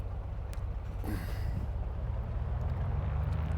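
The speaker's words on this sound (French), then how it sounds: "Le bruit du moteur est vraiment très sympa, très réaliste." Piston engine of a Beechcraft Bonanza F33 in a flight simulator game, a low steady droning hum that holds at a moderate level and builds slightly, with a brief hiss partway through and no talk.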